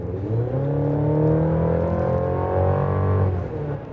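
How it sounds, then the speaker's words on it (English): Engine of a 2024 GMC Canyon AT4X 4x4 accelerating in Baja mode during winter driving, a steady, loud cabin-heard drone with rising harmonics that swell through the boost and ease slightly near the end, no talking. "Which, the engine actually doesn't sound too bad."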